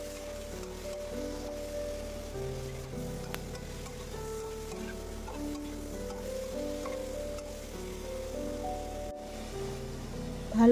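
Fish curry spices with coriander powder and salt cooking down in a pan, a soft steady sizzle with faint stirring, quiet and close, with a brief louder bump at the very end and no talking.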